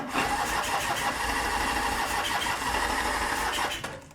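A Norton motorcycle engine with the choke off fires and runs roughly at close range for a few seconds, a loud uneven mechanical clatter that drops away and stalls at the end.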